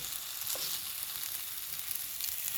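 Gyros meat made from venison, beef, pork, lamb or chicken frying in splattering oil, a steady close sizzle with scattered small pops and crackles, no voices.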